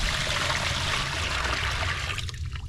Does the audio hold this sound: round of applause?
no